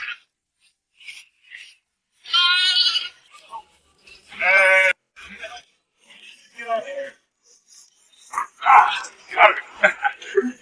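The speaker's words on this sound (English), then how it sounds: "this man helped a little goat escape from its mistake and reunite with its mother" A little goat bleats several times in short, wavering cries near its mother, with someone speaking softly between and over the calls.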